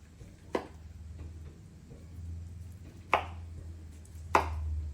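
A knife carves the breast off a roast chicken, three separate thuds against the board spaced a second or more apart over a low room hum, with no voices.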